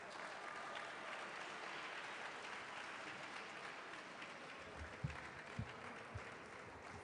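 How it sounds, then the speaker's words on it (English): Audience clapping at a public hearing, a steady rustling patter of many hands heard fairly far off, with a few louder thumps near the end. "Is that how you clap for the NOGE president?"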